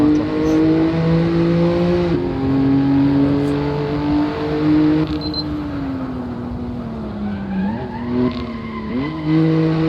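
A loud BMW M4 racing engine in the driving game Assetto Corsa revs and shifts pitch continuously, with tires squealing at moments.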